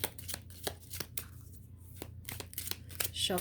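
A Kipper deck of cards is shuffled and riffled close by in a series of quick crisp bursts, with faint soft sounds in between.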